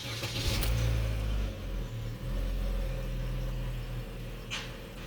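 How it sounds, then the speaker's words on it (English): A Nissan 240SX with an RB25DET engine running in a shop, a steady low rumbling idle with slight rises in revs, close and continuous, with no talk. "I'm going to hit start readout, and then I'm going to start the car."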